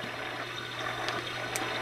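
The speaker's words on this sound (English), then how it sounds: "Or like white noise, water." A Fisher-Price Snugabunny baby swing plays its water white-noise setting, a soft, faint, continuous trickling wash with a low steady hum beneath it.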